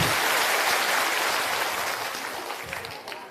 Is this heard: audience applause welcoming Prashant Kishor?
yes